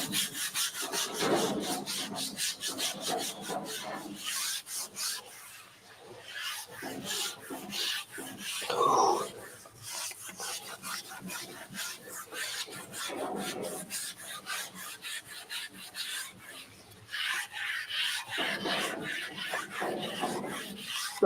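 Scrubbing with a Scotch-Brite abrasive pad, a steady near rasping rub that runs in repeated strokes throughout, with short pauses and slight shifts in intensity.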